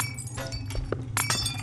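Glass breaking in the video game Estranged: Act 1, two short bright crashes with clinking fragments, close and clear over a low ambient hum.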